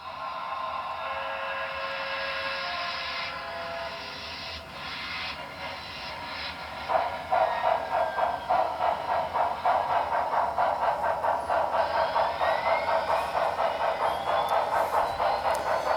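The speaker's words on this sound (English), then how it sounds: "let's go ahead and run one of my big J-Class 484 locomotives up" A large J-Class 4-8-4 model train locomotive climbs a layout helix, its steady rumble rising into a loud, continuous rhythmic clatter of wheels on track joints partway through, heard up close with no talking.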